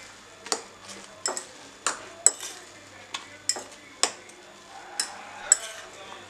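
A spoon stirs a Spanish omelette mixture of egg, potato and chopped coriander in a bowl, giving quiet, regular clinks and scrapes about twice a second.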